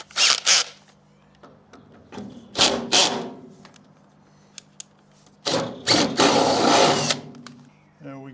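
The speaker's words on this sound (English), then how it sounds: "I'm going to have to go up one size on the drill." A power drill bores holes to fasten a South African braai, running in a few loud whirring bursts, short ones and one longer run, separated by quiet gaps with small knocks.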